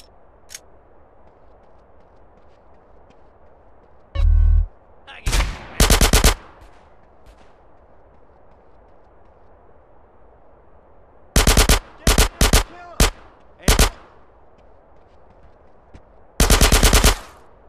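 Gunfire in GTA San Andreas: several loud bursts of rapid automatic shots, with a short burst near the start and longer clusters later, separated by quiet gaps of game background.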